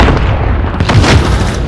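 Artillery strike in the Call of Duty Modern Warfare video game on the Euphrates Bridge map, a loud continuous booming rumble of heavy explosions rolling together, close and dense.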